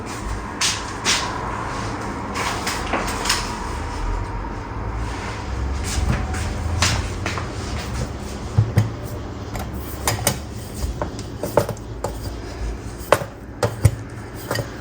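Layered Diwali chirote dough is rolled out with a rolling pin on a board, producing continuous rumbling rolling strokes with scattered light knocks and clatters, fairly close, with no talk.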